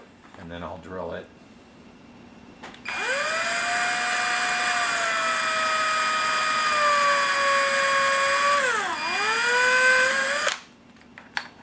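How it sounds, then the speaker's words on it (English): A power drill bores through a plastic panel while mounting parts on a Tamiya 1/14 Ford Aeromax semi truck model, its steady high whine running about eight seconds and dipping briefly under load near the end, with brief talk before. "And then I'll drill it."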